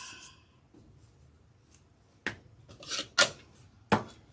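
Scissors snipping through pink and green deco mesh for a spring wreath, a few separate crisp cuts spaced apart after a quiet start, close and clear.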